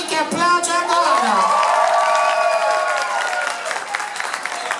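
A nightclub crowd at a drag show breaks into loud applause mixed with cheers and whoops, while voices shout and talk over the clapping.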